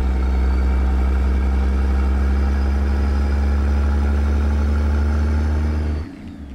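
A Ruda Cascadia 125 truck engine in American Truck Simulator pulls steadily and loudly under acceleration, a constant deep drone with a low harmonic hum, then cuts off abruptly near the end.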